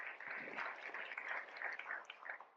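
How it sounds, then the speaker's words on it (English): Audience clapping after a lecture on public and private blockchains, a moderate steady patter of many hands in a hall, fairly faint and continuing for a few seconds. "Let's give Professor Mohan a big round of applause."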